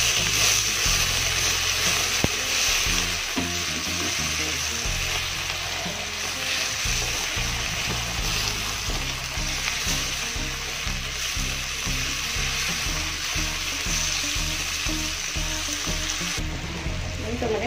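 Tomatoes and small bird's-eye chillies fry in hot oil with a loud, continuous sizzle and crackle, close up, with recurring clatter and scraping of stirring throughout.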